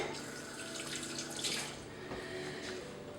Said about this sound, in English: I'll just wash my hands.